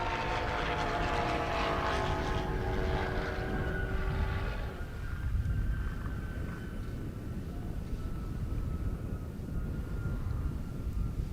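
A Corvette and a Challenger on a half-mile airstrip drag race, engines roaring loudly at first with rising whines, then fading into a distant, rumbling drone.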